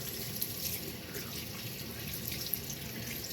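Water runs steadily from a tap for face rinsing, a close, continuous hiss and splash with faint drips, with no voices.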